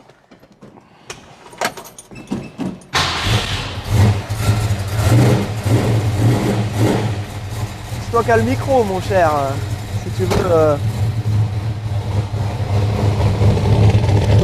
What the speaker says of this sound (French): la voiture est froide, donc on va pas aller très très haut dans le tour